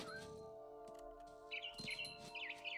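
Bird chirps in the video game What Remains of Edith Finch, a few short tweets rising over a steady musical tone, fairly close and clear.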